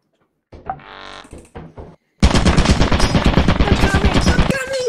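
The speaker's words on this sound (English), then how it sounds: "Dude, there's so many fucking shooty turrets." Rapid automatic gunfire from shooting turrets in the video game Lethal Company, starting with a whirring spin-up and then a loud, dense, continuous burst of shots at close range.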